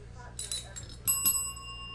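A bell gives a few quick, light rings, then one longer bright ring that lingers and fades over a quiet background hum.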